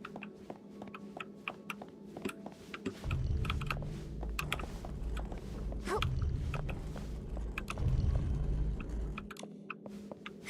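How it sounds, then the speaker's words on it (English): Typing on a computer keyboard fitted with silent linear switches gives fast, soft, irregular key taps over a steady low hum that swells partway through, with no talking. "I have silent switches, like the speed, like linear switches, to make the keyboard like more, like quieter"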